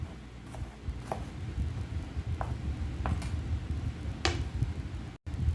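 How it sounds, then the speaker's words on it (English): Knife chopping an onion on a cutting board for a vegan tostada, a handful of sparse, light taps at an unhurried pace, faint and close against a soft background hiss. "Do the same with your onion. Just chop it up."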